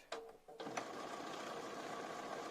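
Bernina B590 sewing machine stitching quilt-as-you-go fabric with batting: a few short starts, then a steady continuous motor whir with fast needle rhythm, close and fairly quiet.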